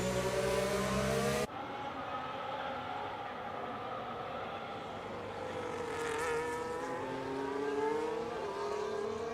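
McLaren Formula 1 cars at Spain pre-season testing, a loud engine scream cutting off abruptly, then a softer, steady high-pitched engine whine that rises and falls as cars pass at a distance.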